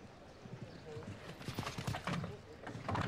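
Horse hooves thud on arena footing at a European senior team show jumping final, a loose run of muffled strikes under Italian commentary and crowd murmur.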